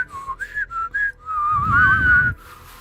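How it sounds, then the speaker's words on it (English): Several short whistled notes followed by a longer wavering whistle with a breathy rush of air, close and clear, consistent with nose whistling. "Yes, I can whistle both ways."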